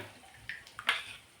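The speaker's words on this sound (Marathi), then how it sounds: "ताक टाकायचं आहे।" Buttermilk poured into a hot pan of tempering for kadhi, a few brief liquid splashes and gurgles rising to a louder pour near the end, close and otherwise quiet.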